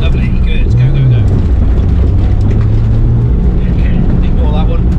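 Rally car revving and accelerating on a Cotswolds driving course, a loud steady engine drone with a rising whine partway through, with people talking over it.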